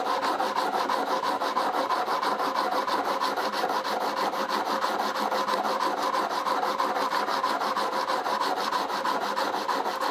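A printmaking carving tool is rubbed steadily against a sharpening surface, giving a continuous, close, even rasp with a fast back-and-forth texture and no pauses or voices.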